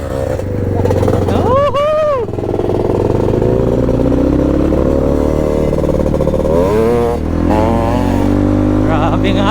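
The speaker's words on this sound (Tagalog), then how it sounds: "umatak sarap na umatak ng motor ni Bros Ben" A loud off-road trail motorcycle engine drones close by and revs up in rising and falling swells, with a voice talking over it, on a trail in Porac, Pampanga.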